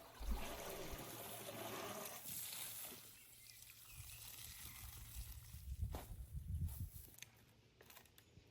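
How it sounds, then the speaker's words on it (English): Water drains and drips from straw bags hung up to drain after soaking submerged for 12 hours for mushroom growing. Faint, uneven trickling and dripping with soft splashes runs throughout, with no talking. "I let the bags drain for around 2 hours until they stop dripping."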